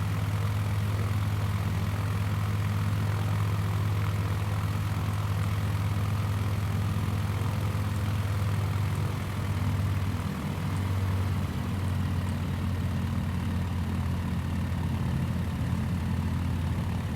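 A propeller aircraft engine in Microsoft Flight Simulator 2020 drones steadily and loudly throughout, with a constant low hum and a slight wavering near the middle, no voices over it.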